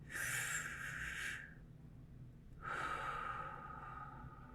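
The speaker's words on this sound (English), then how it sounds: "Let's take a deep breath to relax" Two slow, deep breaths taken to relax: a long airy inhale lasting over a second, a short pause, then a longer breathy exhale, close and clear against quiet background.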